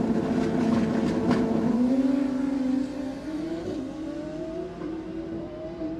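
Super street drag bikes, including a Hayabusa, launching down the strip at an FIM drag racing event, their high engine whine rising and sweeping as they pull away, loud and fairly close with little talk.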